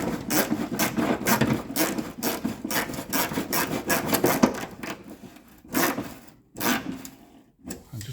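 A large 24mm socket turning handbrake cable nuts on a Vauxhall Vivaro van, giving repeated rasping, ratcheting scrapes in irregular bursts up close, with brief pauses between strokes.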